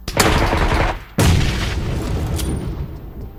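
A grenade explodes in the PUBG video game as two loud booming blasts, the second with a deep rumbling low end that trails off into a long fading decay, with no speech.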